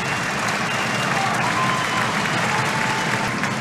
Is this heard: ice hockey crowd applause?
yes